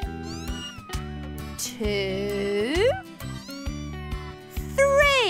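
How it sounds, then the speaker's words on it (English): Cartoon newborn kittens meowing in a bright, high-pitched animated style, several rising mews in quick succession over a musical backing, with a narrator's voice briefly counting. "Three beautiful kittens."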